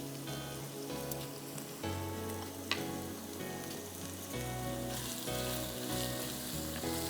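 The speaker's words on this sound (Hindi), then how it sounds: "इसको आपको अच्छी तरह से फ्राई करना है जब तक कि ये पिंक से वाइट हो जाए।" Chopped meat frying in oil in a pan, a dense, continuous crackling sizzle like rain on a surface holding steady over several seconds, with an occasional faint stir, close and without voices.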